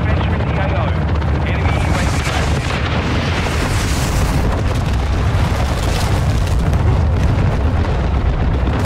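Call of Duty Modern Warfare 2 ground-war combat makes a dense, loud, continuous roar of explosions and rumbling booms with aircraft noise mixed in, heavy from start to end.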